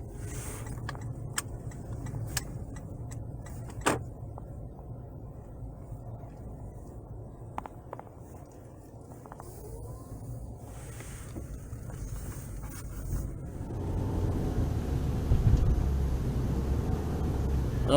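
A car cruising northbound along rural country roads near an abandoned turnpike stretch, with a steady low engine and road rumble plus wind noise throughout, growing louder and rougher toward the end.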